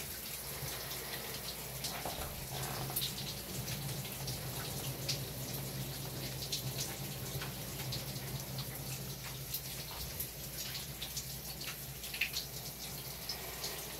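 Water pours steadily over a potted Korean orchid in a pot of orchid stones, a soft continuous trickle and splash with scattered drips, quiet and close, with no talk.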